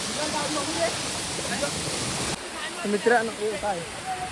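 Rushing water at Usgaon Waterfall makes a steady, dense roar that drops to a softer level about halfway through, with faint voices calling in the background.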